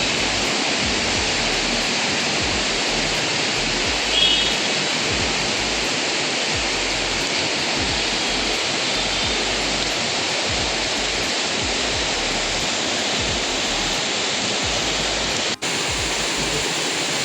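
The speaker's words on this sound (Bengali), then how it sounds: "বাইরে অঝোরে বৃষ্টি হচ্ছে" Heavy rain pours outside in a dense, steady, broadband hiss that stays loud and unbroken, with one faint click near the end.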